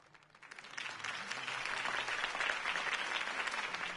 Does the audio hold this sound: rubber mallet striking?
no